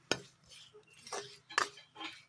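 A spoon stirs mango pickle with cumin in a metal pan, giving four or five separate scraping clinks at an unhurried pace, close and fairly quiet, with no talking.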